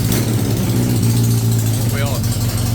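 A Yamaha XJ900F motorcycle engine runs at a steady, loud idle close by, with a continuous low throb and a voice partly over it.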